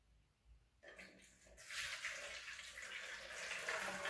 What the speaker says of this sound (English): we're going to put our mixed food coloring and our water into the bowl